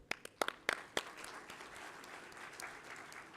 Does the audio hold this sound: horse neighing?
no